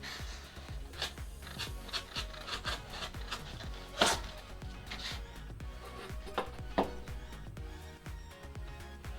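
The edge of a cardboard Amazon box is trimmed, producing close, rough scraping and slicing sounds in uneven strokes, with a couple of sharper louder cuts partway through.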